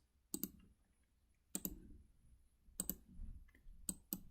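Sharp computer mouse clicks land in small bursts while a line is drawn in CAD software, close and dry, with quiet gaps between the groups.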